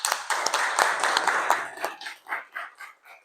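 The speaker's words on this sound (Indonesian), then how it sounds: "Oke, tepuk tangan." A school class claps hands together in a classroom, a brisk burst of close, bright clapping that thins out into a few scattered, separate claps toward the end.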